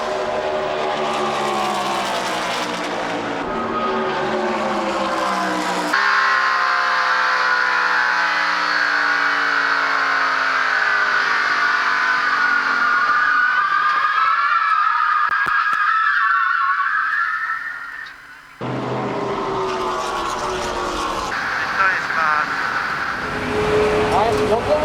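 NASCAR stock cars lapping an oval during a 1998 practice session, one car trailing another. A loud, sustained engine roar rises and falls in pitch, with a brief dip near the end, and voices talk over it at times.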